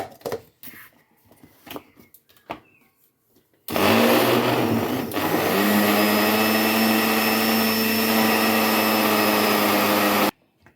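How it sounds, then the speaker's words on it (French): An electric blender mixing banana crêpe batter starts abruptly after quiet handling noises, then gives a loud, close, steady whine for about seven seconds before cutting off. "Ensuite, nous allons mixer."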